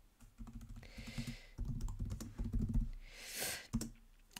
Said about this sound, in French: Je vais taper baby girl